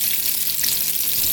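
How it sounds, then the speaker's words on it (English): Orange, red, yellow and green bell peppers frying in hot grease, a loud, dense, continuous sizzle close up with no talk. "I'm going to go ahead and put in my orange peppers, red peppers, yellow peppers, green peppers."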